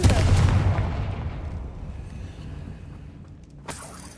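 A Confringo fire blast spell cast in Hogwarts Legacy erupts as a loud, booming explosion that rumbles and slowly fades, followed by a brief sharp crack near the end; no talking.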